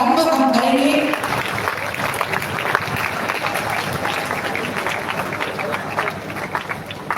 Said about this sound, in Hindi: तालियों के साथ ये शुभारंभ हम करेंगे